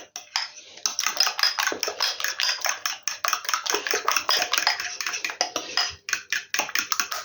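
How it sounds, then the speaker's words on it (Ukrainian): Casserole filling for a potato and chicken breast bake stirred in a bowl, with rapid rhythmic utensil clinks and scrapes against the bowl at close range, continuous with brief pauses. "І так само гарненько перемішаю, все вимішаю і попробую теж на сіль."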